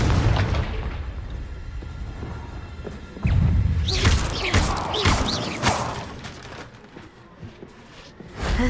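A Confringo explosion spell goes off in a video game: a heavy boom lands partway through, followed by crackling bursts and debris-like rumble that gradually fade.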